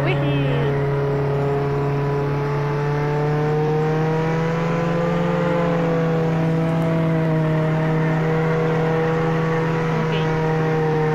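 Car driving in the Roblox game Jailbreak, a steady droning engine tone with slowly shifting pitch, continuous and fairly loud throughout, with a voice heard now and then over it.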